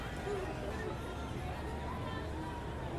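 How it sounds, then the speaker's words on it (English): A full-capacity crowd at Riverfront Stadium in a 1977 Padres at Reds opening-day baseball video game makes a steady, distant murmur that stays level throughout, like a soft crowd bed under play. "Dave Winfield gets a rousing reception here by the full capacity crowd here at Riverfront Stadium"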